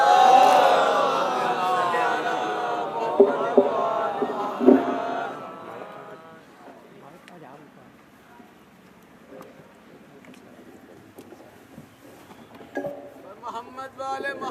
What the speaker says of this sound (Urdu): مولانا موصوف کا استقبال آپ حضرات بآواز بلند نعرے صلوات سے کیجیے